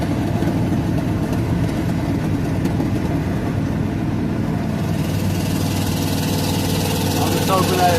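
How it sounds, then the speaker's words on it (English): An old truck with a 302 V8, four-speed and four-barrel carburetor idles with a steady, deep, rumbling throb, a slightly loud exhaust note that stays even throughout. "This old truck will run. 302, 4-speed, 4-barrel."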